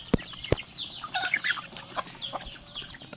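Native chickens clucking at feeding time, a scatter of close soft clucks and chirps over a quiet yard background, with a couple of sharp knocks near the start and no talking.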